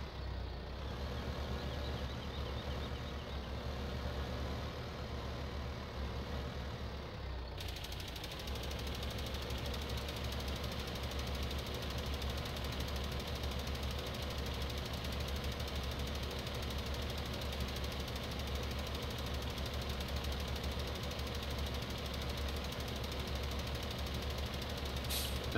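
A farming video game tractor or truck engine runs steadily and fairly loud, with a faint chugging knock. The tone shifts abruptly after a few seconds, then holds an even drone with no talking.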